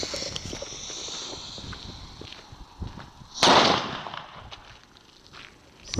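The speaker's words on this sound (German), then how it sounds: "Wir fangen an mit dem D-Böller von Xplod Oldschool." A single sharp blast from an Xplode Oldschool D-Böller firecracker bursts out at mid-clip amid outdoor background noise, then the air settles back to a quiet hiss.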